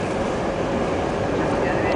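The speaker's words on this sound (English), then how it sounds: "We're riding the train." A passenger train rides along a line in Spain, its low steady rumble and rattle filling the interior continuously at close range, with a voice talking over it.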